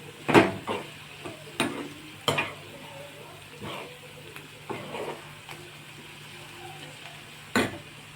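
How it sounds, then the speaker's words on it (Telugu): Snake gourd pieces fry in a pan on the stove, a soft steady sizzle broken by several sharp scraping stirs of a spoon against the pan. "పొట్లకాయలు బాగా ఫ్రై అయినాయి, చాలా కలర్ఫుల్గా కనపడుతుంది కదా పొట్లకాయ ఫ్రై."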